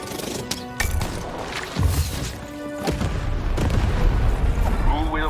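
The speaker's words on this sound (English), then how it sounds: "The button to fire the cannon." Cannon fire in the video game Lost in Random, several heavy booms and crashing impacts over dense game sound and music, with a voice talking over the action.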